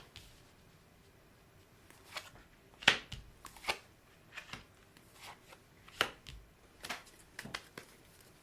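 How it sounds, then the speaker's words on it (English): Tarot cards handled and flipped over one at a time like book pages, giving soft, sparse papery snaps and slides spread irregularly across a quiet room, with no talking. "I'm going to flip each card over like they're the pages of a book."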